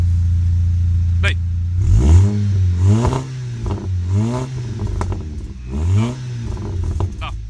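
Worn Volkswagen Golf GTI engine revving repeatedly, several rising and falling blips of a mid-pitched engine close by over a steady idle, with a brief metallic clatter.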